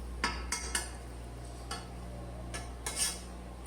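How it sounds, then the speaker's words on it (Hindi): Laddu mixture roasting in a pan over very low heat while being stirred, giving several soft, separate scrapes and clinks of a utensil against the pan, spaced out and fairly quiet. "इसी तरह से इसे चलाते रहेंगे।"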